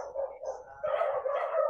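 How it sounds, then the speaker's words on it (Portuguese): Dogs bark repeatedly somewhere outside, a quick run of yips and barks at moderate distance, heard alone without talk. "Tem uns cachorros latindo aqui."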